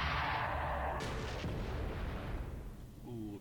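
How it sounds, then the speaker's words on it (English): A torpedo strike explodes in the space game Space Engineers: a loud, broad blast at the outset that decays into a rumbling roar, with a second burst about a second in and a low tail fading out. "Ooh, a big hit by the torpedoes then."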